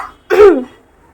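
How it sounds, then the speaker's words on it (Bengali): A single short, harsh cough or throat-clearing, close and fairly loud, followed by quiet. "কাশি হচ্ছে"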